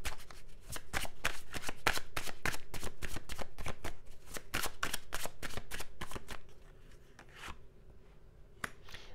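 A tarot deck is riffled and shuffled close up, giving a dense, fast train of sharp card flaps for several seconds. The flaps thin out toward the end into a few last taps, with no speech over them.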